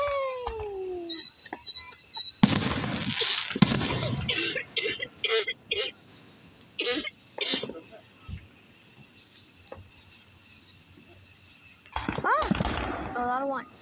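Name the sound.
loud fireworks exploding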